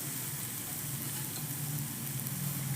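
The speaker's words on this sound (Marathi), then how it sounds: "आणि हे चांगलं असं मिक्स करून घेऊयात" Potato filling for pav vada being mixed in a pan after the gas is turned off, a steady soft scraping and faint sizzle with no talk.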